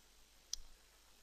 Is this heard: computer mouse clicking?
yes